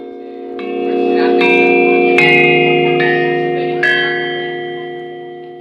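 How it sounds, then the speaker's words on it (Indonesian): Slentem, a Central Javanese metallophone, is struck several times, producing low sustained humming tones that overlap and ring on with bell-like overtones, loud and close, fading slowly at the end. "Berikut merupakan contoh bunyi dari slentem."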